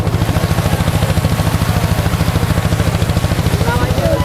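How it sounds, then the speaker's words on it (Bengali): A fishing trawler engine thumps in a fast, even, loud low-pitched pulse throughout, close by, with no other sound rising above it. "যারা ট্রলার দেখছেন সবই ফিশিং ট্রলার"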